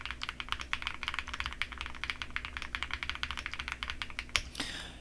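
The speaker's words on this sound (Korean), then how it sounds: "그럼 바로 간단하게 타건 좀 해볼게요" Steady, rapid typing on an SPM AL87A full-aluminum custom keyboard produces crisp, close clicks and clacks in an even rhythm, ending in a louder single key strike and a brief rustle, with no talk.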